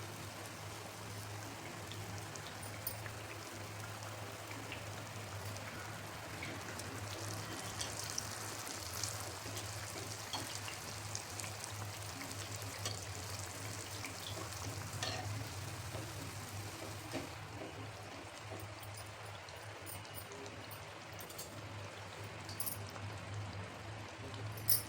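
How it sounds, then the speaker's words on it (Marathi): Malpua batter fries in oil over a very low flame, giving a soft, steady sizzle with faint crackles throughout, quiet and close, with no talking. "एकदम लो फ्लेमवरती आपल्याला तळून घ्यायचं."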